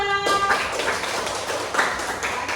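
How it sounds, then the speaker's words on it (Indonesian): A classroom of students applauds for group 2, with steady, moderately loud clapping that lasts throughout, plus a faint voice near the start. "Kasih tepuk tangan kelompok 2"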